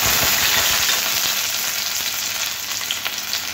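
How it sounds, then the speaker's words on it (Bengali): Chopped onions hit hot oil in a wok with a loud, close, continuous hiss and crackle that eases slightly as it goes on. "এবার দিয়ে দেবো কেটে রাখা পেঁয়াজ।"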